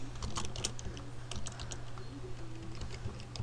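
Quiet, close typing on a computer keyboard, a quick irregular patter of soft key clicks over a low steady hum.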